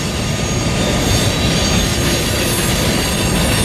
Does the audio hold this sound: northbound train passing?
yes